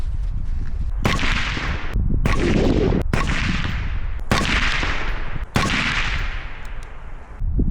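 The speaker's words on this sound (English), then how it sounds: "shooting 77 grain match ammo through it" Suppressed rifle shots from an Otter Creek Labs Infinity suppressor firing 77 grain match ammo outdoors, five sharp cracks about a second apart, each trailing off in a long decaying echo over steady wind noise.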